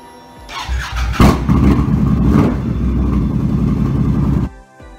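Motorcycle engine starting and revving as the rider sets off, a loud close rumble that holds for several seconds and then cuts back to a low idle.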